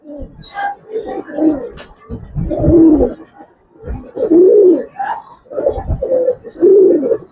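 An old Giribaz pigeon coos up close in a run of repeated low, throaty phrases separated by short pauses, steady in loudness, with no talking.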